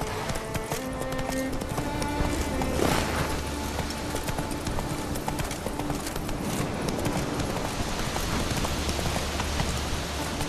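Roach, the horse in The Witcher 3, trots with a steady, rhythmic clip-clop of hooves close by, accompanied by a soft patter of rain throughout.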